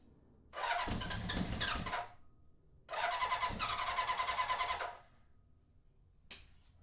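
A Honda CB750 motorcycle engine, freshly rebuilt, cranks and fires in two loud bursts of about one and a half to two seconds each, separated by a pause, followed by a brief faint third attempt.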